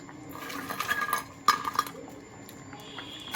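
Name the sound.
adding lentil fritters one by one into pot of bottle gourd shukto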